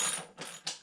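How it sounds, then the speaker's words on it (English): Hand ratchet tightening the fuel tank mounting bolts on a mini bike, three short clicking bursts, close and faint, no talk. "We're tightening up the fuel tank, and then we'll move forward from there."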